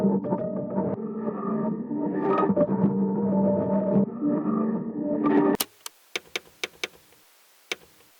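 Piano passed through several Arturia Fragments effect presets, a dense sustained textured wash for about five and a half seconds that cuts off sharply into a sparse run of isolated clicky ticks over near silence.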